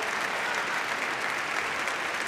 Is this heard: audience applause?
yes